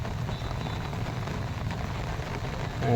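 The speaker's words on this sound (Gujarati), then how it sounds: "વરસાદ પણ અત્યારે ચાલુ છે" Steady rain patters on surfaces over flooded farmland in Dindoli, Surat, a constant soft wash of drops with no voices.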